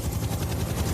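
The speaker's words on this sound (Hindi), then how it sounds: "क्या तुम्हें हेलीकॉप्टर्स की आवाज आ रही है?" Helicopters flying overhead near the pyramids in Egypt, a loud, steady low rotor thump with a dense engine rumble.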